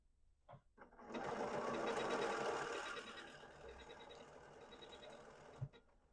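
A Bernina 770 QE quilter's edition sewing machine running a hand-quilting style stitch, a steady mechanical whir that starts after a few soft clicks, holds for several seconds at moderate loudness, then ends in a final clack.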